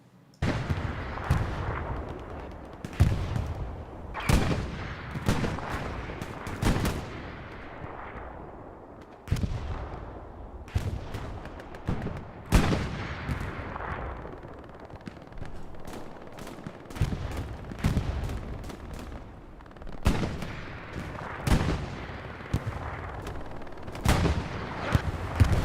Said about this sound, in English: Maybe too much artillery.